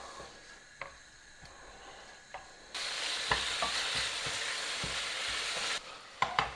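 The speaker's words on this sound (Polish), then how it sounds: "Smażymy naszego filecika." A fillet frying in olive oil in a pan: a steady, close sizzle that swells louder midway and then drops back, with light scrapes and taps of a utensil stirring and turning the meat, no voices.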